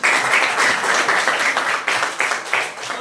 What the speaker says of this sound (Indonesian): berikan lagi tepuk tangan dulu